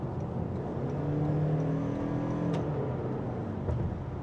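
A 2026 Toyota Crown Signia hybrid accelerating, heard from inside the cabin as a low, smooth engine drone rising gently in pitch, fairly quiet and steady with faint road hum.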